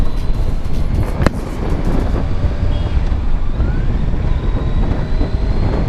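A Kawasaki Ninja 1000 motorcycle pulls in third gear from around 2500 to 3000 RPM, its engine a steady, loud drone mixed with heavy wind rush, holding an even level throughout.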